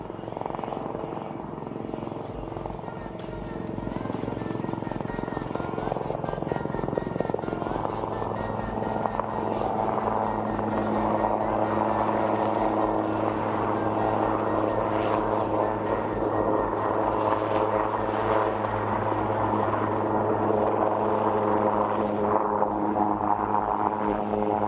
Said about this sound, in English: The helicopter will now perform some sideward movement parallel to the runway.